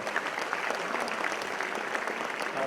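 A hall full of people gives sustained, even applause at the IPE 2019 convocation, a dense patter of many hands clapping without pause.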